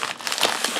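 Plastic packaging around a jar of store-bought slime crinkles as it is opened, a short burst of close, crisp rustling and crackling.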